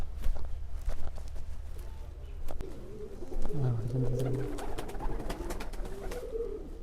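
Low, soft cooing of hundreds of pigeons housed at a forest gurdwara swells in the middle, with scattered taps and rustles of birds moving nearby; no one speaks.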